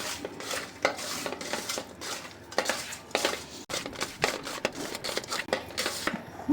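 Bele fish are worked by hand with salt and turmeric in a bowl, producing irregular wet squelches, soft slaps and light clinks against the dish, close and fairly quiet with no talking.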